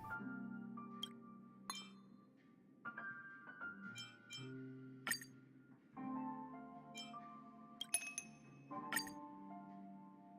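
Small wine glasses clinking in a drink-mixing minigame in Honkai Star Rail, a series of bright, ringing chimes and taps with lingering tones, spaced irregularly over soft background music.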